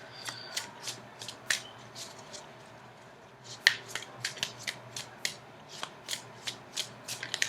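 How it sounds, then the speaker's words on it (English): Tarot cards are shuffled in quick, crisp riffles, a run of sharp flicking bursts repeating close by with brief pauses between them. "I'm going to shuffle for just a few more seconds."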